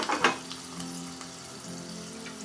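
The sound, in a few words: curry leaves sizzling in hot oil tempering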